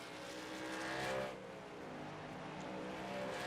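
A race car at Watkins Glen going on the throttle to pass for the lead, its engine note rising then easing off in a quick, fairly faint burst heard at a distance.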